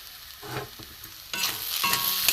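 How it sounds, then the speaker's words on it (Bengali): Spices with chili, turmeric, cumin, coriander and ginger frying in a pan for an egg-yolk ball filling, a soft sizzle with scraping stirs that turns louder and denser midway, close and without talk. "দিয়ে এটা একটু ভালো করে মশলাটা ভেজে নেব।"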